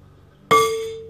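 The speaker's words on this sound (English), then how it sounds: "I just dropped the lid in there." A lid drops into a cooking pot of pork ribs in sauce and gives one sharp metallic clang. The ringing tone follows the impact and decays over about half a second, close and fairly loud.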